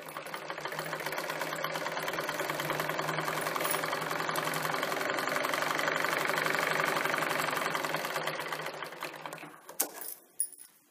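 A sewing machine double-stitches a katori blouse with a steady, fast mechanical rattle that runs for about nine seconds, then stops, leaving a few light clicks.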